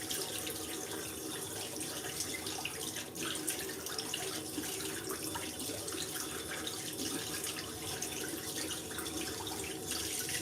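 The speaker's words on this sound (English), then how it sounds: "I'm just going to stick my head in the sink." Tap water runs steadily into a bathroom sink as someone rinses their face during an evening skincare routine, a continuous close splashing rush with no speech throughout.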